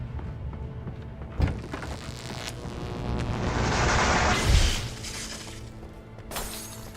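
A flashbang grenade from the Alan Wake video game goes off with a sharp crack and a bright, hissing burst that swells and fades, followed by a few smaller thumps, at moderate volume.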